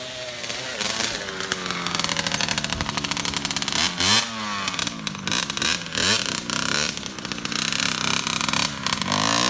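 A dirt bike engine rides through trees, loud and close, holding a steady cruising drone with repeated rises and dips in revs across the whole stretch.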